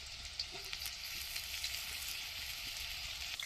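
Washed potatoes fry in mustard oil in a wok, a faint, even sizzle and crackle running throughout with occasional soft clinks.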